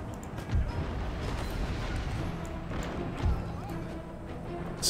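Cuirassier cavalry horses in Empire: Total War battle galloping with drumming hoofbeats, mixed with distant battlefield booms and a faint background voice, fairly loud and continuous.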